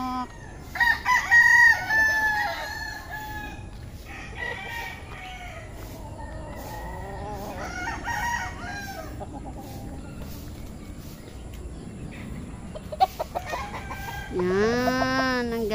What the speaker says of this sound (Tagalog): Ayan, manok, manok.